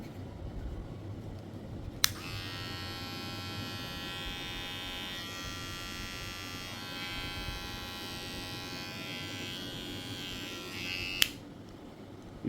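A very small, unbranded electric hair clipper switches on with a click and hums at a steady, even buzz for about nine seconds before clicking off, close and alone.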